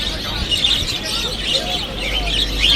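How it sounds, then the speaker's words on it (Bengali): Birds chirp and tweet in a busy outdoor pigeon and bird market selling budgerigars, parrots and doves, dense overlapping calls over a steady crowd murmur, with someone talking. "এখানে বাজরিকার থেকে শুরু করে টিয়া, বাজরিকার এবং লুটনো এবং ঘুঘু, প্রতি আইটেমের এখানে পাখি আপনারা পেয়ে যাবেন"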